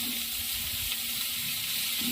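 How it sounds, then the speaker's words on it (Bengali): Chopped gima greens hit a hot wok with a steady, close hiss of sizzling, a brief soft stir of the leaves partway through, no voices. "কড়ার মধ্যে দিয়ে দিলাম শাকটা। এবার একটু শাকটা আমি নেড়ে নেব।"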